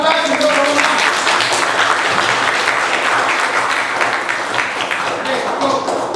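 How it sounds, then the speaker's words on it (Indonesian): A classroom full of students applauds a student group, a steady, dense clapping that stays loud and near from start to finish. "berikan aplaus untuk kelompok."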